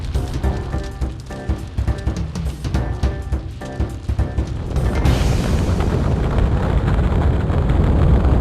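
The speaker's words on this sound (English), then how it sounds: "Would you look at that? A fireworks show!" Fireworks show in the Sly Cooper video game, set in the Kunlun Mountains of western China: a rumbling barrage of booms and crackling bursts swells into a dense, continuous roar of explosions.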